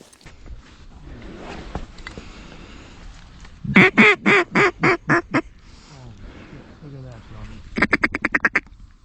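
Ducks flying in at a sunrise hunt, with bursts of loud rapid quacking calls, one series mid-way and another near the end, while people talk throughout.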